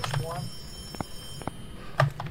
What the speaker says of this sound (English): he keeps ringing this classroom